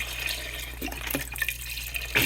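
Chicken broth pours into a pot with cut-up squirrel, a close liquid splashing and trickling with uneven bursts and a louder splash near the end, no talking.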